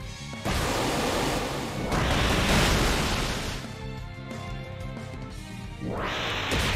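Waterfall attack sound effect from Pokemon X, a loud roaring rush of water in two long surges separated by a quieter stretch, then a third surge starting at the end.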